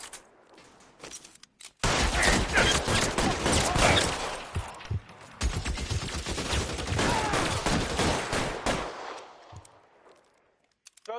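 Sustained video-game gunfire in L.A. Noire, a loud fusillade of rapid, overlapping shots that starts abruptly, rolls on for around seven seconds with bursts and brief lulls, then fades out.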